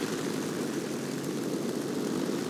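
Hawker Hurricane propeller aircraft engine in the War Thunder video game at an airfield capture match, a steady, loud continuous drone with no pauses.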